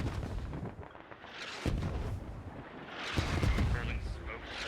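Mortar and artillery blasts from a tactical military shooter, Squad, boom as heavy low rumbles with a few sharp thuds and rolling echoes, under continuous overlapping battlefield noise.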